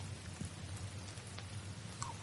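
Steady, faint rain falls in an even broadband hiss with scattered small drop ticks and a low hum underneath; no one speaks.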